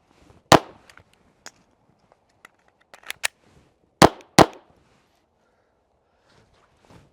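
Sharp, dry pops from a Glock 44 .22LR pistol fired outdoors at a 5-yard range, several shots spaced irregularly with a quick pair near the end, each snapping out cleanly against near silence.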